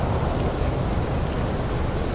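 Storm in the survival video game No Man's Sky, a loud, dense roar of heavy rain with deep rumbling thunder underneath, steady throughout and with no talk.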